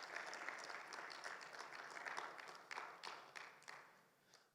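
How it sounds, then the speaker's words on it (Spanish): A church congregation at a Bible seminar gives the Lord a loud round of applause, a steady wash of many hands clapping that fades toward the end, with no voices. "¿Cuánto le dan un fuerte aplauso al Señor,"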